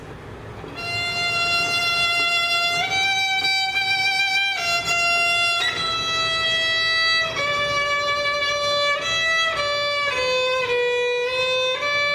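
A violin plays the slowed-down section of a rock song alone: long sustained, bowed notes stepping gradually through a slow melody with smooth slides, loud and close.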